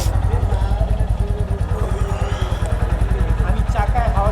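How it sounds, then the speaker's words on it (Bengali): A Royal Enfield Classic 350 motorcycle idles close by with its single-cylinder thump, an even, rapid pulsing beat that stays steady throughout, loud and near. "রয়্যাল এনফিল্ডের ডাক ডাক ডাক ডাক ডাক ডাক ডাক ডাক যে সাউন্ডটা"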